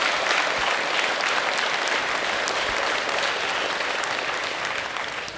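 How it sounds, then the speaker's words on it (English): Applause from the audience at a 2025 Middleton town meeting, a dense, steady clapping from many hands that holds strong through the clip and eases slightly at the end. "I would ask that you hold the applause, please, after the speakers"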